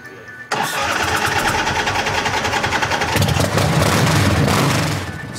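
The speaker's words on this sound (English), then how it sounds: "I'll show you how this one sounds. This was our favorite sounding bike." A custom-built, stripped-down film motorbike fires up abruptly after a brief silence and then runs with a loud, steady, throaty idle, revving slightly higher toward the end before easing off.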